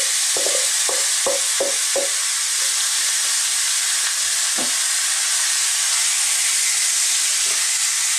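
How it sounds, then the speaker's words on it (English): Spicy Jamaican pork mince mixture frying in a pan over medium to high heat with a little oil, a steady loud sizzle throughout, broken by a few quick scraping stirs near the start and another around the middle. "We're simply going to fry this around, probably for about 6 minutes on a kind of medium to high heat."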